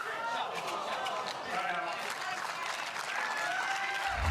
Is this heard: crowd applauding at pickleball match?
yes